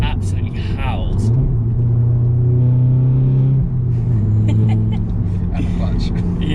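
A manual Audi S3 with an aftermarket exhaust drones and hums steadily at close range, its engine note rising and settling across several seconds while people talk over it.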